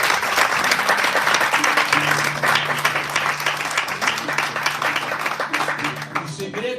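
A church congregation gives loud, sustained applause at an evangelical service, a dense steady clatter of many hands that fills the whole stretch, with voices and a held tone running underneath.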